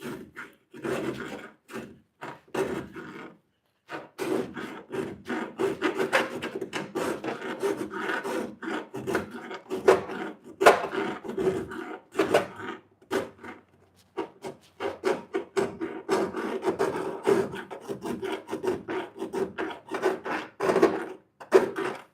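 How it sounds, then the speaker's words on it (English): A Snap-on rat tail file rasps steadily across a part during work on a 2005 Chevy Duramax, with close, repeated back-and-forth strokes that come in bursts and short pauses and no talking. "Take a rat tail file."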